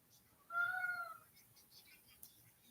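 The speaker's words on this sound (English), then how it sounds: "One of y'all can hear the cat" A pet cat named Scout meows once in a drawn-out, clear call, moderately loud and near, in a quiet room, followed by faint background noise.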